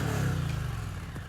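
Indian Challenger cruiser motorcycle with a 1768cc V-twin engine, a short low rumbling rev that starts strong and tapers off, heard fairly quietly and alone.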